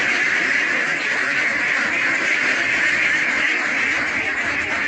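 A large flock of mixed-colour ducks at a duck farm in Ponnani quacks nonstop in a loud, dense chorus that stays steady throughout.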